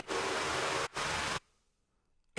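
A loud, full white-noise riser from a drum and bass buildup roars steadily, cuts out for a moment, surges back, then drops abruptly into near silence before a short final burst.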